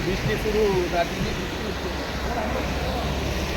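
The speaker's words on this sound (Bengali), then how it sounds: "বৃষ্টি শুরু হয়ে গেছে" Rain falls in the hills near Darjeeling as a steady broadband wash of noise, with a person speaking briefly over it at the start.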